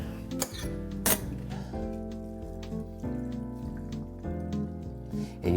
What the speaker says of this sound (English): And all we're going to do is strain it out.